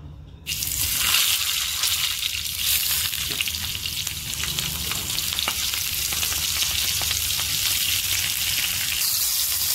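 Green chillies dropped one by one into hot oil on a griddle over a low gas flame give a loud, continuous dense sizzle and crackle that starts abruptly and holds steady throughout.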